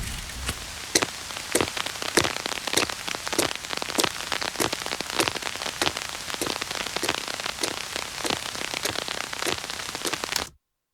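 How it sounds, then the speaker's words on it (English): Rain patters densely on an umbrella in a produced audio drama scene, a close crackling spatter with sharp irregular drop hits and steady hiss, continuing until it cuts off abruptly near the end; footsteps are not distinct. "you hear it transition from rain being around her to rain being on top of the umbrella, and then her walking"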